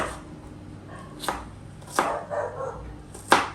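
A knife chops vegetables small for pasta, landing a few distinct, well-spaced thuds on a board close by, with no talking.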